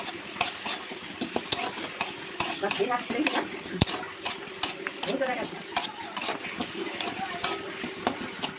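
Spice paste of ginger and tomato with five-spice seeds frying in hot oil in a home kitchen, a steady sizzle broken by frequent sharp clinks of a spoon against the pan, while people talk over it.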